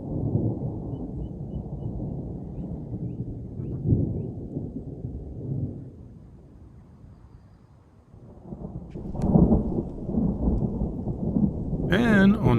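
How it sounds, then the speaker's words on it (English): Long rolling thunder from a storm rumbles low and steady at a dispersed campsite, fading briefly before swelling again, with rain and a sharp crackling burst near the end. "a storm rolled in with the longest thunders I have ever heard"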